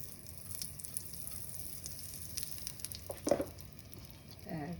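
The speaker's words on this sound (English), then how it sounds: "curry patta in. Saute it till they become crispy." Curry leaves and hing crackle in hot oil in a pan for chevdo, a quiet steady sizzle with scattered light pops and a short burst of louder crackling near the end.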